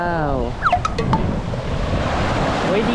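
Sea waves wash ashore at Ko Adang island in Thailand, a steady surf roar mixed with wind buffeting the microphone, while people's voices briefly rise over it near the start.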